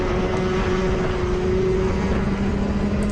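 A racing kart engine is held at full throttle during a championship heat, giving a steady, loud, droning whine with a constant pitch and no pauses throughout.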